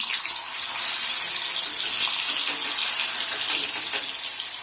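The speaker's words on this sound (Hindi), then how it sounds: "पनीर को फ्राई कर लेंगे।" Paneer frying in hot oil in a kadai, giving a loud, steady, dense sizzle that stays even throughout, close by and with no voices.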